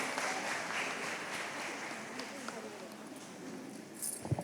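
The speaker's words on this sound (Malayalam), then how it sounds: "എല്ലാവരും നല്ലൊരു കയ്യടി കൊടുക്കണേ" Applause from an audience at a music school's anniversary celebration and debut event, a steady dense clatter of many hands sustained throughout, with a few sharper claps near the end.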